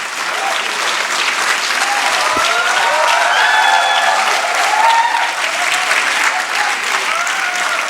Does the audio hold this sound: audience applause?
yes